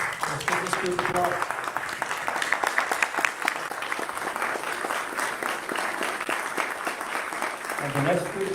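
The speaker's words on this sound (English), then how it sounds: "Let's give this group applause." An audience at a Democratic primary candidate forum claps, a sustained patter of many hands running the full length. Voices come through at the start and again near the end.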